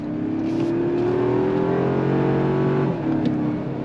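A 2025 Toyota 4Runner Limited with a 2.4 liter turbo engine accelerates on throttle, its engine note climbing steadily and loud up close before dropping at a smooth gearshift from the 8-speed transmission.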